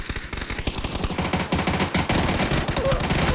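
Rapid automatic gunfire from the battle royale game PUBG during an esports match, dense bursts of shots rattling continuously and loudly for the whole stretch, growing heavier toward the end.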